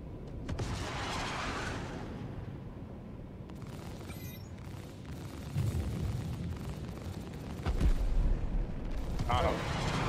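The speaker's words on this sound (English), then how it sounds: "Who is hitting us with missiles?" Missile explosions during a HammerHead PvP fight in Star Citizen, heavy booms and impacts over a constant rumbling din, with a couple of stronger blasts toward the end and players talking over the action.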